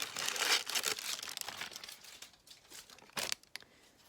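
Fabric being roughly cut out by hand, giving a run of papery crinkling and rustling with a few sharper snips toward the end, close and fairly quiet, with no voices.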